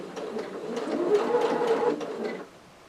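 A sewing machine stitches a pocket on a tote bag with a continuous, fairly loud mechanical whirr and needle patter that runs for over two seconds, then cuts off near the end.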